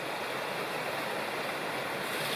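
Bald River rushes steadily beside a hiking trail in the wilderness, a broad, continuous wash of flowing water heard close and loud with no break.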